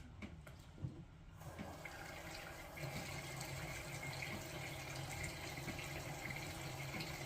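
Water runs steadily into a container, a continuous splashing rush that starts after a brief pause and keeps going without a break.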